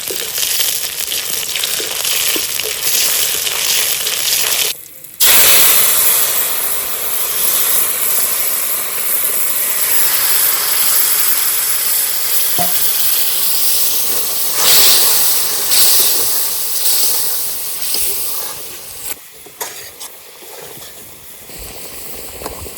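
Panch phoron spices sizzle and hiss in hot oil in a pan, a loud, steady frying roar that runs on for many seconds with brief dips and small crackles.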